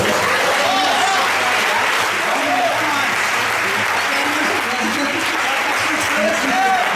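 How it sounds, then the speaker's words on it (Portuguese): A congregation at a Portuguese-language healing service applauds in a loud, continuous roar of clapping that lasts the whole stretch, with voices calling out over it. "Vamos aplaudir o nome de Deus."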